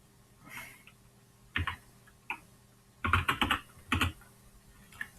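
Short bursts of computer keyboard typing, close clacking keystrokes in small clusters separated by quiet pauses, with no talking.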